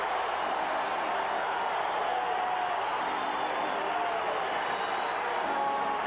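Crowd noise swells steadily through an arena during a 1985 NBA playoff basketball game between the Philadelphia 76ers and Milwaukee Bucks, a dense continuous roar of cheering heard at a distance, with no clear voices above it.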